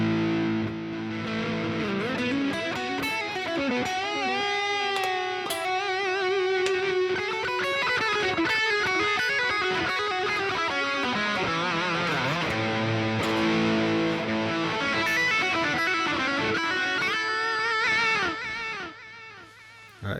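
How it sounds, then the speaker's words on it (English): An electric guitar played through a moderately set distortion pedal on a pedalboard rings out in sustained, gritty chords and bending notes, loud and continuous for about twenty seconds before cutting off. "All right, so that's the distortion."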